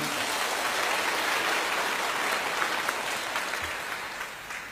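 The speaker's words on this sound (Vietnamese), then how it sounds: "chúc mừng các cha bằng một tràng pháo tay nha" A congregation applauding the priests at a grand Mass for migrants, a full, even round of clapping that holds steady and fades gently toward the end.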